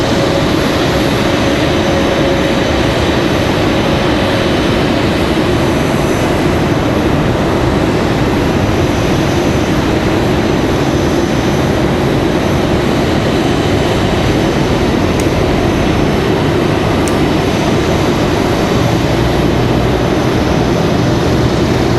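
United Airlines Airbus A320 jet airliner at Raleigh-Durham airport, a loud, steady, broadband engine roar that holds at full strength throughout, close and unbroken.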